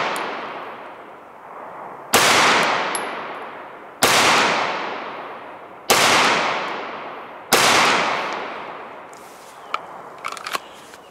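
A Smith & Wesson M&P Pro 9mm handgun fires five sharp, loud shots spaced about two seconds apart, each with a long ringing outdoor decay.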